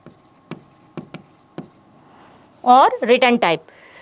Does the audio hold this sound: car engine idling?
no